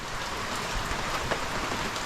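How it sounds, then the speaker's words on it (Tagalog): Heavy rain pours down steadily, a dense, loud hiss of drops drumming on surfaces with no pauses. "malakas na naman yung ulan"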